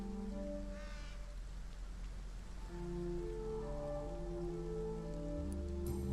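Light, steady rain patters at a graveside in the video game Vampyr, soft and even beneath sustained mournful music notes, with occasional crow-like caws in the distance.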